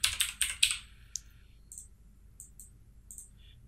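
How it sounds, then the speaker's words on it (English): Keys typed on a computer keyboard while entering a shortcut in After Effects: a rapid burst of close, crisp clicks followed by a few isolated sharper taps against quiet room tone. "hit Control Y on the keyboard to create a new solid"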